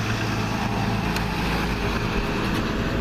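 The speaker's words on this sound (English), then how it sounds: "Wait for the Lowe's truck to go by." A Lowe's delivery truck rumbles past on a nearby road, a steady low engine drone that stays fairly constant throughout with no voices.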